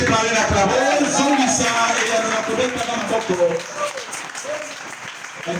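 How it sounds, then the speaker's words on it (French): Congregation in a French-speaking church applauding and cheering during a sermon, a loud crowd roar with voices mixed into the clapping, gradually thinning toward the end. "Réagissez par une acclamation"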